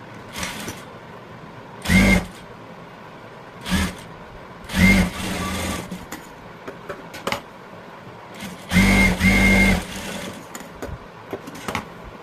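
A sewing machine stitches a folded hook strip on a blouse in several short, separate runs, with quiet gaps between the bursts.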